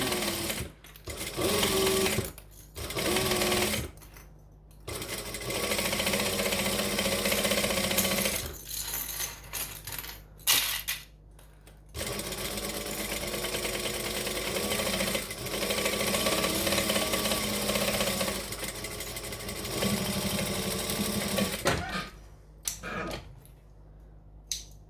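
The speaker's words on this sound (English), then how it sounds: "I'm going to stitch and back stitch" A sewing machine stitches and back-stitches fabric in long steady bursts of rapid mechanical stitching, pausing briefly between runs, loud and close.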